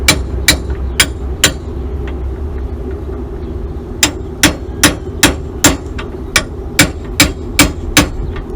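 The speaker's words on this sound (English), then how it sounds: "hammering it upward." Sharp metallic hammer blows drive a steering bush upward on a Fordson tractor, struck in quick regular series: a few early strikes, a pause, then a rapid run of evenly spaced, ringing hits close by.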